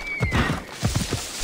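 A horse galloping in the video game Assassin's Creed Odyssey, with rapid, heavy hoof thuds in uneven clusters and a brief high whinny near the start, loud and close.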